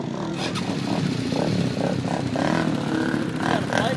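An ATV engine with an aftermarket pipe and a ripped-out muffler revs and accelerates loudly nearby, a raspy, buzzing drone with rising and falling pulses, while people talk over it.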